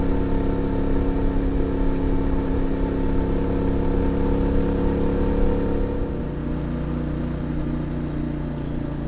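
CF Moto 450MT motorcycle climbing an uphill mountain road in 6th gear, its engine giving a steady, loud droning pull close by, easing slightly in pitch and volume toward the end.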